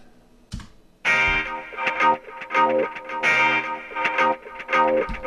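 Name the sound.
guitar riff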